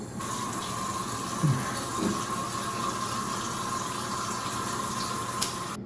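Tap water runs steadily into a basin for wetting the face, a continuous close splashing hiss with a couple of small knocks, no voices.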